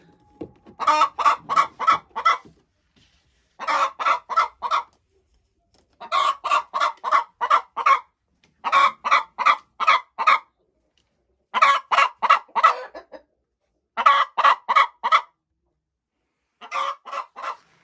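Hens cluck loudly in repeated rapid bursts, each run of sharp clucks separated by short pauses, close and insistent.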